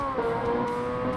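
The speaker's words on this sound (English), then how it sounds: "Rev limiter, nice." A Ferrari 360 Modena in the Forza Motorsport racing game held against its rev limiter, a loud, steady, buzzing high-revving engine note that does not change through the clip, with no voices.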